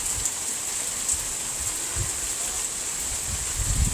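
A downpour falls steadily outdoors, a continuous hiss of rain with scattered nearby drips and patters on surfaces, no voices.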